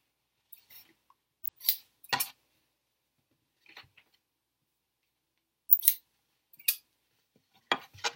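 Scissors snip through strips of ripped T-shirt fabric for a no-sew rag rug, giving several short, crisp cuts spaced irregularly with quiet gaps between them.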